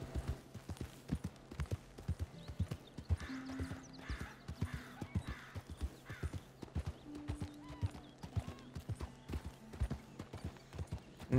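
Horse hooves clip-clop at a steady trot through a Red Dead Redemption 2 game scene, the rhythmic footfalls clear and close throughout, with brief tonal in-game sounds surfacing between the hoofbeats and no talk.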